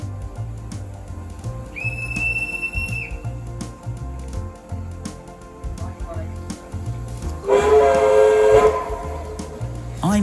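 A heritage locomotive whistle on the Churnet Valley Railway gives a short high toot, then a louder, longer blast a few seconds later, over a low rhythmic rumble of the engine nearby.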